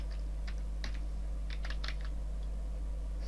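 Someone types a word on a computer keyboard in a quiet room, a handful of soft, close key clicks in an uneven rhythm over a low steady hum.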